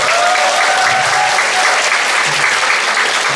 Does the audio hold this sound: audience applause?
yes